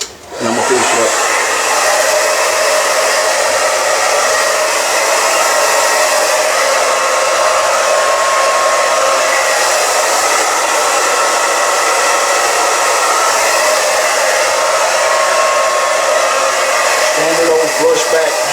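A hair dryer runs steadily and loudly while drying a short gentleman's brush-back haircut, a continuous close whoosh that starts abruptly and holds nearly unchanged throughout.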